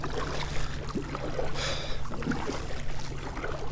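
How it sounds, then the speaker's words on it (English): Canoe paddling on a lake while fishing for crappie in early spring: soft water swishes and drips from the paddle strokes, close by, over a steady low hum and light wind, with no voices. "let's paddle back to where we caught that one."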